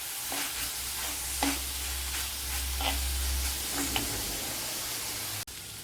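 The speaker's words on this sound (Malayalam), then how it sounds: "ഇവിടെ ഉള്ളിയൊക്കെ ഒരുവിധം വഴണ്ട് വന്നിട്ടുണ്ട്" Onions sauté in oil in a pan for a Kerala mackerel fish curry, a steady close sizzle broken by periodic scraping stirs and one sharp knock near the end.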